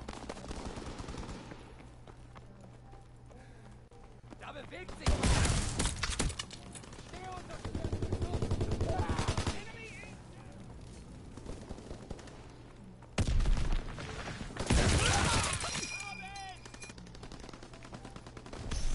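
Bursts of shotgun gunfire in the Call of Duty WW2 video game, loud blasts at about five, thirteen and fifteen seconds over a quieter game background, with a voice talking at times.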